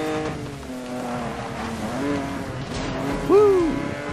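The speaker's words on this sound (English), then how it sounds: "I'm drifting." Car tires squealing through a drift in the Need For Speed: Most Wanted video game, a wavering high screech over steady engine drone, with a sharp louder squeal rising near the end.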